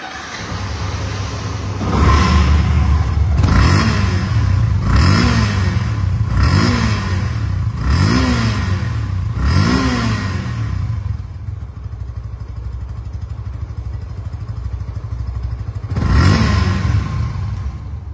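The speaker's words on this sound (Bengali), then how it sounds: "বাইকটির সাউন্ড দেখছেন" A 2023 Yamaha FZ-2 motorcycle engine idles and is revved repeatedly in a series of sharp, close throttle blips that rise and fall, then settles to a quieter idle before one last rev.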